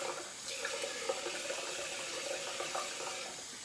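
Water runs steadily from a tap while hands are wetted during a traditional wet shave, a constant close splashing hiss with slight ripples and no talk.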